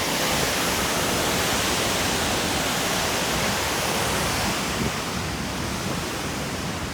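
Loud, steady roar of water rushing through the Jackson Lake dam outlet, a dense broadband whoosh that stays constant throughout and eases very slightly near the end.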